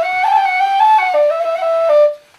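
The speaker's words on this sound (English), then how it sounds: "So that's the low whistle." Close and clear, a low whistle sounds a smooth descending run of sustained, breathy tones, each note gliding into the next before fading out, with no voices.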